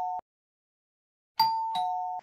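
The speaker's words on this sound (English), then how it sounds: "That was a doorbell, wasn't it?" A doorbell chimes in a Barbie Life in the Dreamhouse cartoon, first as a brief tone and then as a clear two-note ding-dong after a pause. The chimes are crisp and close, with no talking.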